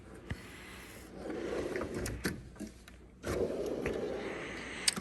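A metal drawer of a large ICON toolbox slides open and shut with rolling, rumbling glides, a few sharp clicks and a clunk, close by in a garage.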